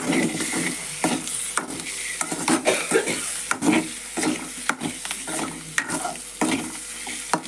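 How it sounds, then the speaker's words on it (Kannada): Spices for an egg curry gravy sizzle in a pan with turmeric, and a spoon scrapes through them in quick, irregular strokes. The sizzling hiss stays close and continuous. "ಎಲ್ಲ ಹಾಕ್ಕೊಂಡು ಸ್ವಲ್ಪ ಹುರಿಬೇಕು ಎಲ್ಲ ಹತ್ತಬೇಕು ಈ ಟೈಪ್ ಎಲ್ಲ ಹುರಿದು"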